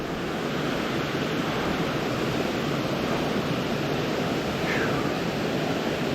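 Darnell Creek waterfall rushes in a constant, loud broadband roar of falling water heard up close, steady throughout with no break.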